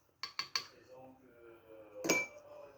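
A metal half teaspoon is set down on a kitchen counter during brioche baking, giving a bright clink, with a few quick light metallic taps just before it in an otherwise quiet room.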